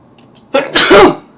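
One close, loud sneeze: a brief sharp inhale followed by an explosive burst that tails off within about half a second, alone in otherwise quiet surroundings.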